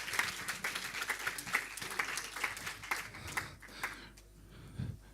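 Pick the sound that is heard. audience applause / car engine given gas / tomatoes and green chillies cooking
audience applause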